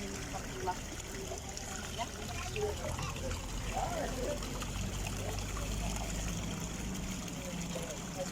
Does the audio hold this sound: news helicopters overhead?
no